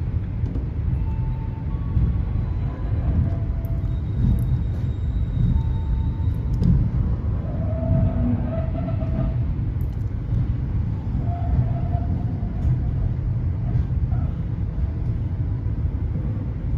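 Low steady rumble inside a Progo New Generation passenger train riding on the rails between Jogja and Bekasi, a continuous close drone with faint brief tones and clicks, no talking.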